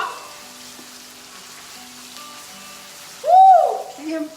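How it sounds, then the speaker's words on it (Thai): Crushed chili and garlic hit a hot pan for a Thai basil shrimp stir-fry, giving a sudden loud sizzle near the end after a long quiet stretch, followed by a smaller second burst. "ตำพริกกับกระเทียมใส่ลงไป ผัดให้หอม"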